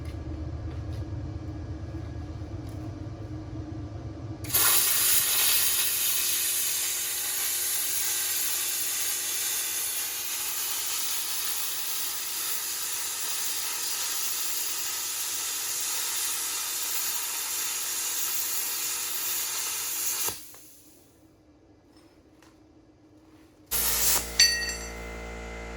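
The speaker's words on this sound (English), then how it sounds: "we're just gonna cut a couple chunks off of this" A YesWelder FIRSTESS MP200 plasma cutter slices through thick steel: after a faint hum, a loud steady hissing roar starts abruptly and runs about fifteen seconds, then cuts off, followed by a brief hiss and clink.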